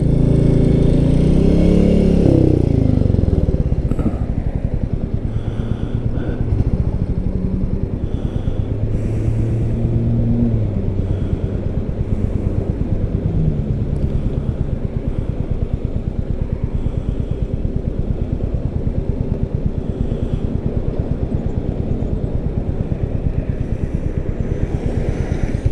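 Royal Enfield Meteor 350 motorcycle on a test ride, its single-cylinder engine loud and close, revving hard at first and then settling into a steady cruising thrum with wind rush and shifting pitch.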